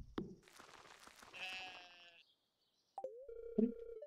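Goat bleating in the farming video game Stardew Valley, a short synthesized bleat with harmonic wavering, preceded by game effects and followed by a brief electronic tone; no talking.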